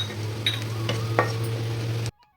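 Chopped onions are stirred in a pan, with a soft sizzle, scraping and a steady low hum for about two seconds before the sound cuts out abruptly.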